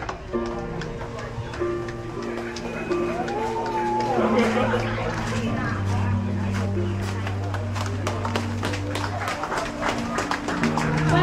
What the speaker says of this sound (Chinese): 让我们以最热烈的掌声欢迎新郎和新娘入场